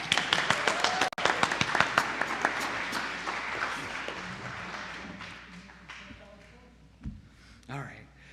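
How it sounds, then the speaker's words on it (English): An audience at a Buddhist service claps for donors and a man named Chris, a brisk burst of applause that thins out and fades while a voice speaks over and after it. "So give yourselves and Chris a round of applause"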